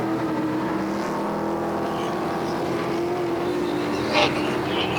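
Hot rod stock cars race around Sunset Speedway in a continuous loud roar of engines, with a steady drone and cars sweeping past, while a commentator talks over the noise.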